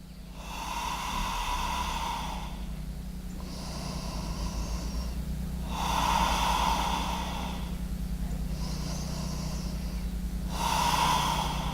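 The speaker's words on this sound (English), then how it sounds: "Take your 3 deep breaths." Slow, deep breaths during a beginner yoga sun salutation warm-up: three or so long, loud, airy inhale-exhale cycles, each several seconds long with short pauses between, close to the microphone and with no speech.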